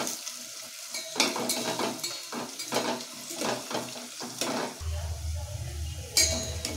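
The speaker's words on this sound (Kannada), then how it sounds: "ರೋಸ್ಟ್ ಆಗಿದೆ, ಫ್ರೈ ಆಗ್ತಾ ಇದೆ ಆನಿಯನ್।" Onions frying in a pan on the stove for a coconut-milk tomato bath dish: a steady close sizzle under repeated scraping and stirring of a utensil against the pan, with a few light clinks.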